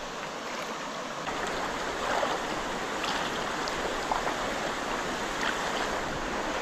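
A swollen stream after heavy rain rushes in a continuous broadband roar, steady and close with no pauses.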